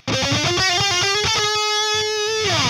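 Quick electric guitar notes tumble upward in a fast, smooth run of hammer-ons, then hold on a sustained tone with no talking.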